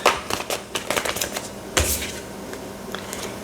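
Tarot cards shuffled by hand during a reading, a run of quick papery riffling clicks and flutters with a sharper burst midway, close and fairly loud, with no talking.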